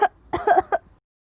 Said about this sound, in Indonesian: kok kamu batuk gak pakai tisu atau menggunakan lengan atas kamu?